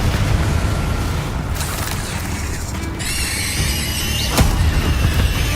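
A booming fiery blast of the Confringo spell in Hogwarts Legacy, loud and close, with rumbling low crackle, a bright shimmering magical tone partway through and a sharp burst near the end.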